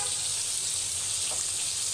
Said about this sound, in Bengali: তারপর দেখেন আমি মাছটা কীভাবে ছেড়ে দিয়েছি